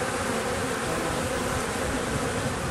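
African bees swarming after a light water mist spray, a dense, continuous loud buzz of many insects close by, steady throughout with no voices.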